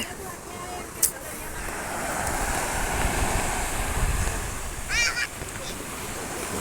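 Sea waves wash onto the shore near a coastal temple at Koyla, a steady, rushing surf mixed with wind noise throughout, with a couple of brief high chirps and people talking faintly.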